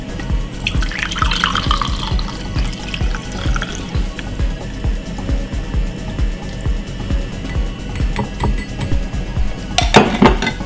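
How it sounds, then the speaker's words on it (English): Liquid pours and trickles steadily through a strainer, with dripping and a few light clinks of dishes near the end, close up. "pour my liquid, strain it."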